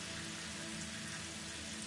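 Dense rain pours steadily across a Satisfactory desert landscape, a thick uniform hiss of drops filling the short stretch with no pauses and no voices.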